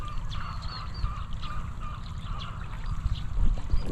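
Water poured onto dry soil in a garden, a steady close trickling and splashing over a low rumbling background, continuous for several seconds.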